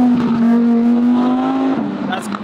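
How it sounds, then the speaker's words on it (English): A loud car revs on a city street in Singapore, its engine holding a steady, close, droning pitch before easing off near the end. "That's a cool car. A bit loud for vlogging"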